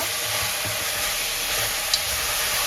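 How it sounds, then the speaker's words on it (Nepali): Ginger and garlic sizzling with goat meat in a hot pan, a continuous loud frying hiss with faint stirring scrapes and one small clink. "यो लसुन अदुवा भुटिँदैसम्म एकछिन भुट्नुपर्छ।"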